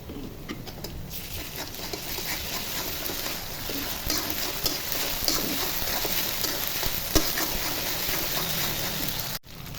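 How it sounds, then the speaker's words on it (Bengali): Ginger and garlic fry with browned onions in mustard oil, a steady close sizzle and patter with intermittent stirring scrapes throughout. "পেঁয়াজ ভাজা হয়ে গেছে, এখন আদা রসুন দিয়ে ভেজে নিব।"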